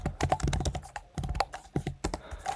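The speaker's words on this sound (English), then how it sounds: "So let's enter our email address," Rapid keystrokes on a computer keyboard, typing an email address in a short close burst of irregular clicks with brief pauses, no talking.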